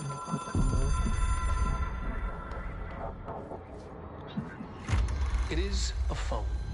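A telephone rings inside a video game, a steady electronic trill running under continuous background game noise and occasional voices.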